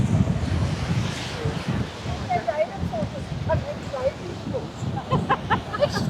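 Atlantic Ocean waves break at Maspalomas beach, a constant wash of surf mixed with gusty wind buffeting the microphone. Voices and bird-like calls are faintly audible in the background.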